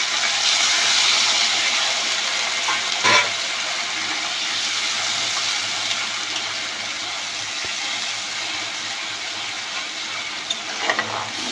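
A little water is poured into a hot cooking pan while chicken is prepared, setting off a loud, continuous rushing sizzle with a few faint clinks near the start and end.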